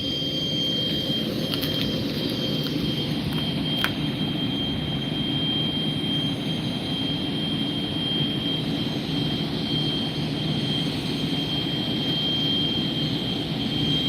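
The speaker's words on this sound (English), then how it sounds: "Somebody's running an APU over there." An aircraft auxiliary power unit running at a regional airport among private jets: a steady, loud turbine roar with a constant high whine on top, unbroken throughout, with no talking.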